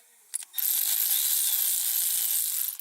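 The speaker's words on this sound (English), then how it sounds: "with your electric ratchet or your regular ratchet, you want to tighten them." An electric ratchet snugging bolts during a short throw shifter install on a car: a couple of brief clicks, then a loud, continuous high whirring run lasting a few seconds, close up, with no talk.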